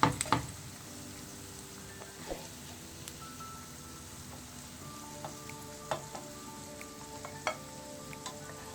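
Chicken pieces for a spicy fry crackle quietly in hot oil, a faint, continuous sizzle broken by a few soft clinks of a utensil against the pan.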